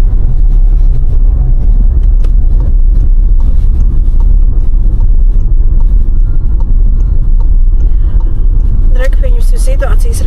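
A car drives along a road during a driving exam in Latvia, its steady low engine and road rumble continuous and close throughout, with wind buffeting and a brief higher whine near the end.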